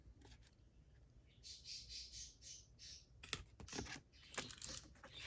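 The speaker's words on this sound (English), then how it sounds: "Can you guys hear my birdie in there?" Pet bird, one of several kept indoors, gives a quick run of bright chirps followed by sharper squawks, mixed with clicking desk noise from papercraft work, with no one speaking.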